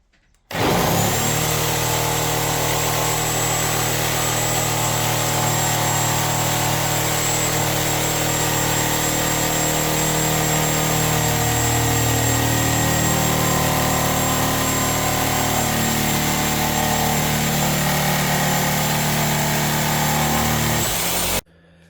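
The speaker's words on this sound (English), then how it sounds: "Now we have the Diablo carbide blade versus plain wood." A reciprocating saw fitted with a Diablo carbide demolition blade cuts through a plain 2x4 of wood, giving a loud, steady motor whine and buzzing rasp that runs continuously for about twenty seconds, with no voices.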